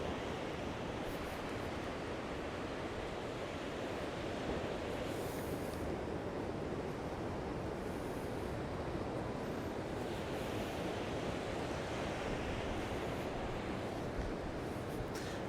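Surf breaking on a beach where people are surfing, a faint, steady broadband wash of waves with some wind rumble on the microphone, and no talking.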